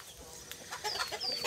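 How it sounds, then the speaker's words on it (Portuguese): Chickens and ducklings in a rural farmyard in Itapetininga, São Paulo, with soft clucks and high chirps scattered over quiet outdoor ambience, growing busier toward the end. "A criaçãozinha dele, as galinhas,"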